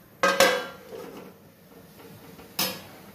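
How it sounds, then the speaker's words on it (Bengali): A lid set on a cooking pot after the gas is switched off, with rice flour left to steam for palm-fruit pitha: two quick metallic clanks close together, a quiet pause, then one more clank. "গ্যাস অফ করে ঢাকা দিয়ে দিচ্ছি"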